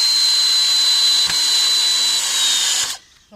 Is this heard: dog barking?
no